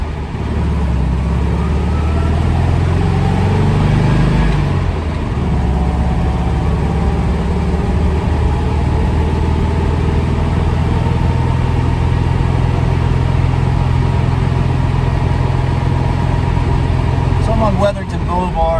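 A car with an air-cooled engine, driven in extreme heat, hums through a steady mid-pitched drone as it cruises along a boulevard, with a brief rev change early on.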